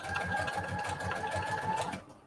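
Sewing machine running steadily while stitching lace ribbon, a close, continuous fast mechanical whir with rhythmic needle pulses that stops abruptly near the end.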